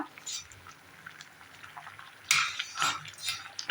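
A thick mango gulamba is stirred with a spatula in a pan over high heat, with soft scraping and bubbling at first, then louder bursts of scraping and spattering in the second half.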